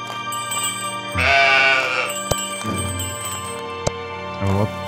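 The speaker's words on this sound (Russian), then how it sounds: "Сейчас мы баранов этих разгоним." Sheep in the video game Old Man's Journey bleat loudly several times, with bursts at the start, in the middle and near the end, over steady game music and a few sharp clicks.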